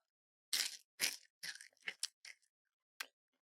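Close, loud crunching of rice crackers comes in a quick run of uneven bites and chews, then one last crunch after a pause, with silence between them.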